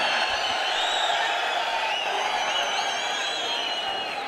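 A large stadium crowd cheers and applauds in a dense, continuous roar to welcome a chief minister at a lit-up evening event, sustained and loud with whoops rising above the din.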